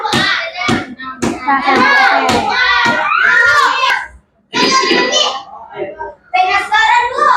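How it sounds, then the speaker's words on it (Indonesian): Schoolchildren in a religious-education classroom clap together in rhythmic bursts while their voices chant and chatter loudly over the claps, with a brief pause partway through. "Tepuk tangan untuk kita semua."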